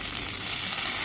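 Curry leaves sizzling in brinjal, broad bean and raw mango sambar, a dense steady hiss of frying oil at close range for about a second, with no talk.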